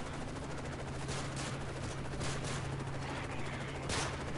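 Bursts of gunfire in Call of Duty: Modern Warfare 3, several shots crackling over a steady dense noisy background with a low hum throughout.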